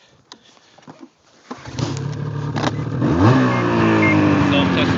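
A 2007 Ski-Doo snowmobile engine cranks and catches after a few quiet clicks, then idles and revs upward with rising pitch, loud and close, while someone speaks briefly.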